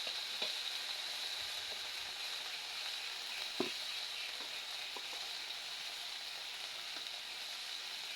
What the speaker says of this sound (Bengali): আমি মাছ রান্নার জন্য প্রথমে আদাটা দিয়ে ভালোভাবে ভেজে নেব